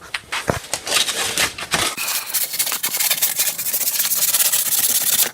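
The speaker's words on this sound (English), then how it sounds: "we're going to finish it with sandpaper" Sandpaper scrapes along a kitchen knife blade shaped with an angle grinder, quick irregular rubbing strokes at first that settle into a faster, continuous rasp, close up and without speech.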